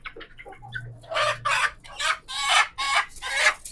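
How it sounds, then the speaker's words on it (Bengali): A chicken clucks and squawks in loud, rapid bursts close by as it is caught by hand in a poultry yard, agitated calls repeating almost without pause. "একটা মুরগি ধরলাম"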